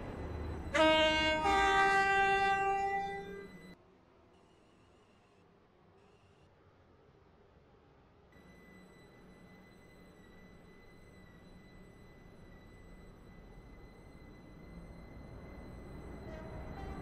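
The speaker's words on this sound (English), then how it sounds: "The train now approaching platform 1 does not stop here." In the Roblox game Stepford County Railway, a train sounds a loud horn blast, then rumbles through the station, its low running noise building gradually with a faint steady tone above.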